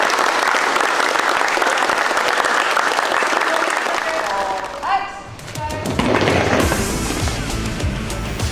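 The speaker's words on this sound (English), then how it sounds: "Big round of applause for her." Audience applause at a Ranger club event, steady broadband clapping for several seconds that thins out, followed by a brief exchange of voices.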